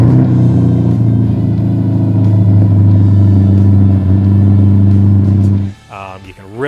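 A C8 Corvette engine breathing through a Paragon Performance aftermarket exhaust holds a loud, deep steady idle drone, then drops off as a voice speaks over the last second.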